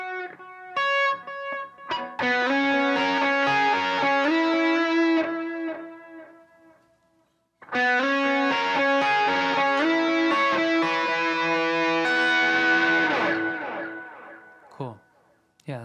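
Electric guitar played through a Line 6 Helix patch with a wide stereo effect, two sustained passes of chiming, layered chords with rich harmonics and modulated shimmer, separated by a brief pause, loud and alone.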